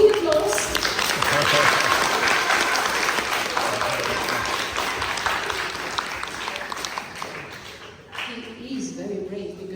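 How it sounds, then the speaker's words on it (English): Audience applause at a storytelling and music performance, a steady wash of many hands clapping that holds for about eight seconds before fading, with talk briefly audible near the end. "let's give him a big applause"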